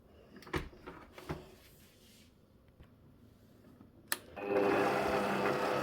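A stand mixer fitted with a dough hook kneads bread dough; after a few scattered knocks and clatters, the motor starts up into a steady, fairly loud whirring drone that continues to the end.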